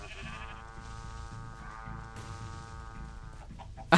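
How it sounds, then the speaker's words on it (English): Exploding sheep gadget in Minecraft Skywars bleating, a sustained harmonic sheep call running for several seconds over background game noise, ending in a brief loud burst. "Rare exploding sheep gadget."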